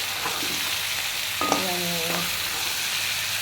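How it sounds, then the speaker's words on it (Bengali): Boiled dabli chickpeas dropped into a hot pan of oil, a steady frying sizzle throughout with a brief tonal clink midway. "ডাবলি বুট দিচ্ছি"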